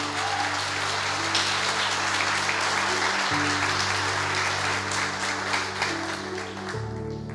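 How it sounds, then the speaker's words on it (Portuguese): A church congregation applauds during a sermon, with dense, steady clapping filling the room over sustained keyboard chords that shift partway through and continue to the end. "Se você crê, aplauda Ele."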